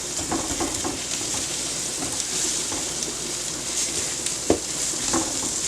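Garlic and onion sizzle steadily in an electric skillet, a continuous close frying hiss with a few faint stirring scrapes and one brief clunk, no voices.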